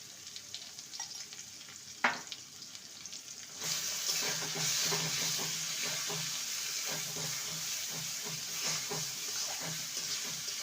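Banana stem and prawn mash with turmeric being stirred and fried in a pan: a steady sizzle rises after a sharp clink, with soft scraping strokes of the stirring spoon repeating throughout.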